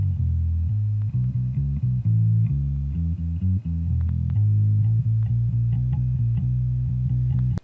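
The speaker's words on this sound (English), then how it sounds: "let's listen to the track with the EQ move on the bass amp track" Bass amp track with EQ applied, a deep, steady bass line of shifting low notes playing continuously with slight distortion and no talk.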